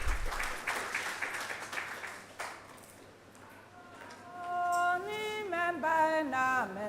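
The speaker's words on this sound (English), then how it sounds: "A round of applause for them as they come on stage." Audience applause at a building inauguration as the Ghana Dance Ensemble comes on stage: clapping in the first half fades out, then a tonal musical phrase with rising and falling notes takes over, growing louder.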